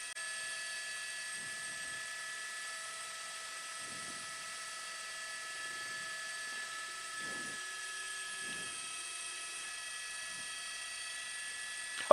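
A distant TV news helicopter over South Los Angeles drones steadily with a high whine throughout, with faint radio chatter fragments underneath and no clear talking.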